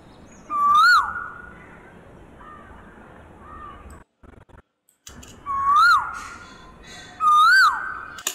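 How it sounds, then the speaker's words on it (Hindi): An Asian koel sound effect gives a few rising whistled calls in short bursts with gaps between them, set over a soft background hiss with one brief dropout. "यहाँ से उस साउंड को लेंगे जहाँ से कोयल की साउंड सुनाई देगी"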